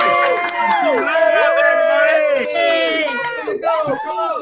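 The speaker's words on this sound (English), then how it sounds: "we can all just give a big welcome, so we can get a big cheer going on" Participants on a video call for a Transplant Games team pep rally cheer and whoop together, several excited voices overlapping in loud, drawn-out shouts.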